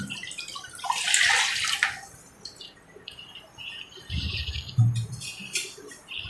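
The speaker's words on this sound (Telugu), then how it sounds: "టూ కప్స్ రవ్వకి నేను ఫోర్ కప్స్ వాటర్ వేసుకుంటున్నాను" Four cups of water splash and pour into a pot of semolina for a couple of seconds, then lower gurgling and clattering follow, with no talking.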